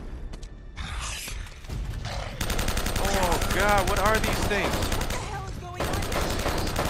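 Shotgun gunfire in the video game Uncharted: Drake's Fortune: rapid, loud blasts and clatter in the middle of a fight, while a voice talks over the din.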